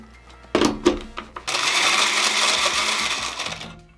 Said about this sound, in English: And it's time to blend.